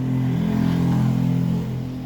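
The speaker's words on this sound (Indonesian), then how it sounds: "tadi ada motor lewat" A motorcycle passes nearby, its steady, droning engine hum staying loud for a couple of seconds before easing off slightly as it moves away.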